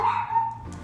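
Brief, close dog vocalization, a single drawn-out bark or yelp under a second long, with no talking.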